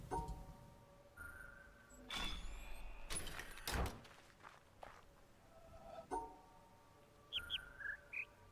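Birds chirp in the puzzle video game The Witness: soft, high tweets and short rising calls scattered over a quiet outdoor ambience, with a few low thumps and footstep-like sounds between them.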